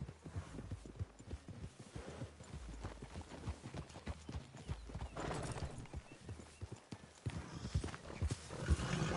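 Horses clip-clopping at a walk along a wooded trail in the Red Dead Redemption 2 video game, steady hoof beats close by with an occasional neigh, alone without talk.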